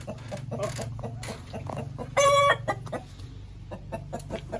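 Young, still-small chickens cluck repeatedly up close, with one short, louder squawk partway through, while people get ready to make chicken larb.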